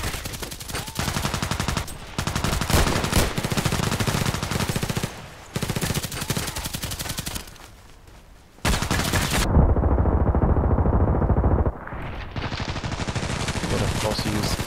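Automatic pistol gunfire in the shooter game Contract Wars: dense rapid bursts, loud and close, broken by short pauses and one longer gap, with a reload-like lull near the end before firing resumes.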